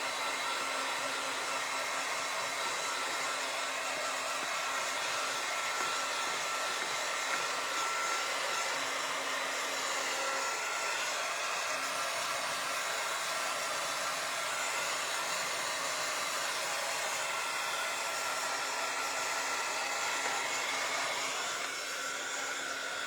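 A hair dryer drones continuously at close range, drying freshly painted shoes, a steady even whoosh with no voices.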